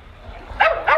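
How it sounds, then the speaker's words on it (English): A dog at a seaside spot gives two quick, high yappy barks in close succession, fairly near and clear over a low background rumble, with no talk during the barks. "Now we got a barking dog."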